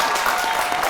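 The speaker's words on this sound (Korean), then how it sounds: "박수 한번 칠까요?" Brief burst of audience clapping at a Korean community quiz show event, steady and fairly close.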